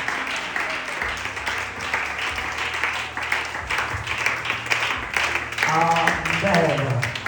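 A church congregation claps and cheers loudly with acclaiming voices, a steady burst of applause that grows near the end while people call out.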